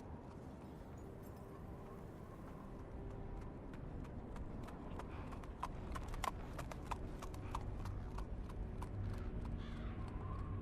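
Horse hooves clip-clopping at a steady walking pace in the Sherlock Holmes: The Awakened game, quiet and moderately distant, over low ambient rumble.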